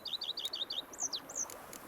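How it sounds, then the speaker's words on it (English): Birds chirp in a peaceful countryside scene of The Witcher 3, a quick run of repeated high tweets followed by a few longer whistled notes, close and clear over quiet background. "Bees buzzing, birds chirping."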